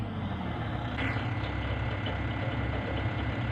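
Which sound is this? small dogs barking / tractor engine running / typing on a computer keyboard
tractor engine running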